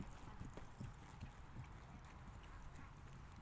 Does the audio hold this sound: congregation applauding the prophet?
no